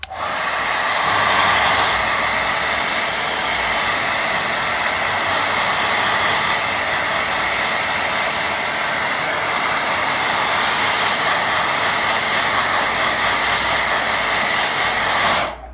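A hair dryer blows steadily over a watercolour painting, a loud, constant whooshing hiss running unbroken for about fifteen seconds before cutting off.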